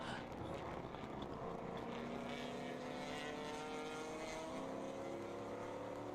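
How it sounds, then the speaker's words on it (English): Toyota Supra endurance race car heard from onboard during a ChampCar race at a motorsports park, a steady droning engine note with rising tonal pitch under faint wind, fairly quiet and constant throughout. "That car does sound good"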